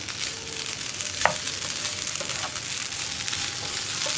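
Potato thoran, a Kerala dish of potato and coconut, being stirred in a pan over the stove, with a steady sizzle and a sharp scrape of the spoon against the metal partway through, close and continuous with no talking.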